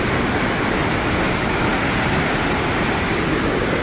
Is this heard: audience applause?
no